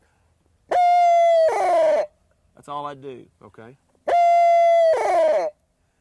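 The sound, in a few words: barred owl hooter locator call imitating a barred owl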